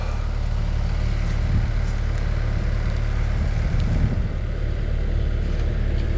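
Excavator engine running steadily with a low, continuous rumble as the cab slews around while clearing dead trees, loud and close with a droning drone throughout, no talk.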